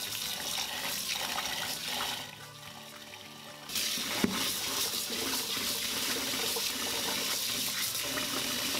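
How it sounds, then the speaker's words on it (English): Running water from a tap splashes steadily while sticky rice is rinsed for Cantonese pork belly zongzi, a continuous close, broadband gush that dips briefly midway and then resumes at full strength with a small clunk. "Then we also have sticky rice. We're gonna rinse in water."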